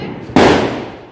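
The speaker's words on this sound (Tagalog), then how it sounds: "pinapaputok nila doon sa labas" A single sharp firecracker bang bursts out outdoors during a Diwali celebration after a moment of low background noise, loud and close, with a long fading tail.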